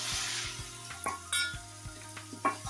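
Boiled pasta with chili flakes frying in a pan over a medium-low flame, stirred with scraping utensil strokes and light metal clinks over a steady soft sizzle, close up with no talking.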